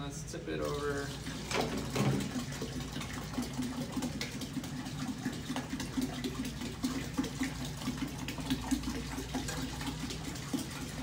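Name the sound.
water pouring out of a tipped-over container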